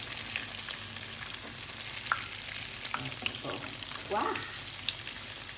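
Continuous loud sizzling of onions frying in hot oil, with light crackles and a brief voice exclamation partway through.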